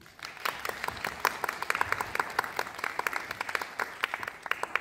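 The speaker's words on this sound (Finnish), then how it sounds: "joten isot aplodit sille." Scattered, crisp clapping from a modest audience at a Lolita fashion event, distinct individual claps building into loose applause close to the recorder.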